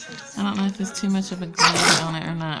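A single sudden sneeze bursts out mid-conversation, loud and close, between stretches of someone talking about nail foils and glue.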